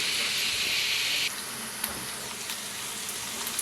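Onions, curry leaves and green chillies frying in hot oil for a prawn and tamarind-leaf curry, a steady bright hiss that drops in level after a moment, with a couple of faint clinks.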